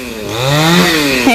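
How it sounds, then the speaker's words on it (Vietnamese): A chainsaw cutting branches of a sao tree in Long Hồ district, Vĩnh Long province, with a steady, loud engine whine whose pitch rises as the blade bites in, heard alone and close. "để ba của Hoa tiếp tục cưa mấy nhánh cây sao, cây sao của bác Út"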